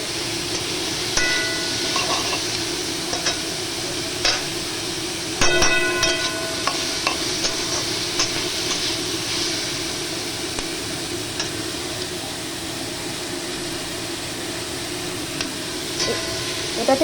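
About ten to twelve cashews and a handful of raisins frying in a pan for shahi paneer, a steady close sizzle with occasional scraping and stirring clinks, no talk.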